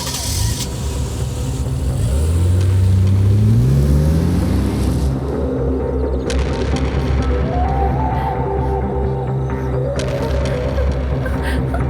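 A car engine revs and climbs in pitch as the vehicle pulls away, loud and close, with a steady background score continuing underneath.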